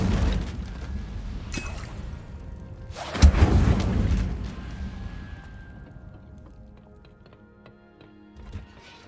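The Incendio fire spell in Hogwarts Legacy bursts in a single loud whooshing blast midway, flanked by lighter clicks and thuds before a low, fading rumble.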